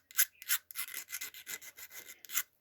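Metal file rasping the burrs off a copper jewelry piece, a series of about ten short scraping strokes in a steady rhythm, close and fairly quiet, with no talk.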